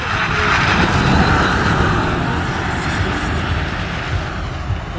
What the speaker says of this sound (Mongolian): За танк 500 илүүрхэж байна.